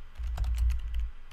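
A computer keyboard clicks as a campaign name is typed, a short close burst of rapid keystrokes lasting about a second over a low hum.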